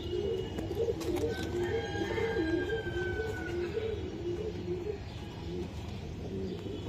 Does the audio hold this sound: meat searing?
no